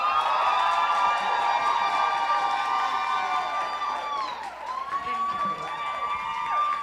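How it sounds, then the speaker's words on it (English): An audience at a women's empowerment social event cheers and whoops for a speaker coming on stage, with high sustained shouts and whistles over crowd noise, loud and close, dipping briefly before rising again. "I wanna hear the biggest, most sincere round of applause that you guys got for Kimberly B."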